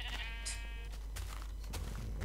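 Sheep in the video game Minecraft let out a clear bleat, followed by softer animal calls and faint game ambience with no talk.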